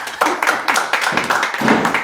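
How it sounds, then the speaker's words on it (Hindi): Clapping from people at an SSC CGL selection ceremony: a brisk series of close, distinct claps in a loose rhythm. "तालियां होनी चाहिए भाई।"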